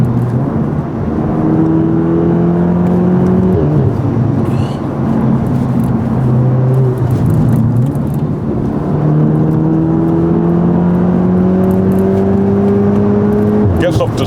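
A 400bhp Audi S3 pulls hard at full throttle, its engine note climbing in long rising sweeps between brief gear-change dips, loud and continuous from inside the cabin while passengers chat over it.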